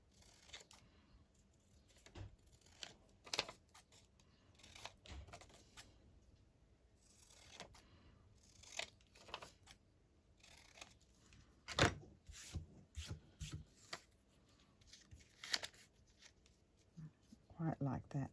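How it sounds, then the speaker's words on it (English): Scissors snip and cut through paper while making envelopes from book pages, giving sharp intermittent crisp clicks and rustles at close range between pauses, with a voice talking quietly at times. "Let me just cut around that and see."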